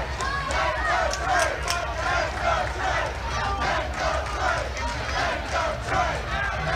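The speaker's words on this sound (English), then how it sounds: "that the SSF crowd was getting louder" Crowd at a fight event, a dense continuous roar of cheering and shouting that holds loud throughout, with a commentator's voice running over it.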